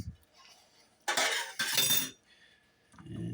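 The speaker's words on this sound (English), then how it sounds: "we fix and start stirring" A spoon stirs chicken salad with mayonnaise in a bowl, making two close, scraping clinks against the bowl that are separated by a brief pause, with quieter handling noise around them.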